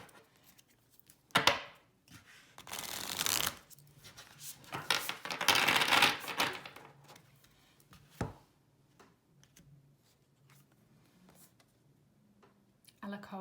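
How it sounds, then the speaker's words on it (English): An Earth Warriors Oracle card deck is shuffled in bursts of crisp riffling and slapping, loudest around a few seconds in, then fading to quieter card handling with faint background talk. "Shuffles really nicely. I don't have a problem handling this size deck."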